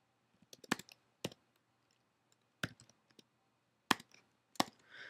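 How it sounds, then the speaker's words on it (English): Sparse keystrokes on a computer keyboard while R code is typed, a handful of separate clicks and short bursts with quiet gaps between them, close and fairly faint, with no talking. "I'll go ahead and type this out."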